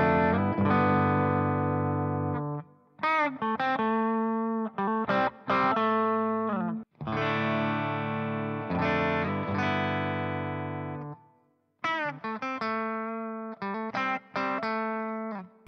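Thick, distorted electric guitar with a full humbucker tone plays sustained chords and short riffs, loud and alone with brief pauses between phrases.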